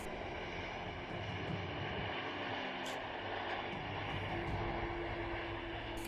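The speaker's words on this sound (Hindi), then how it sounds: "अमेरिकी सैन्य विमान C-17 बुधवार दोपहर अमृतसर के श्री गुरु रामदास जी इंटरनेशनल एयरपोर्ट पर उतरा" Steady, loud engine roar of a US military C-17 transport aircraft landing at Amritsar's Sri Guru Ram Das Ji International Airport, a continuous broadband drone with a low tonal hum throughout.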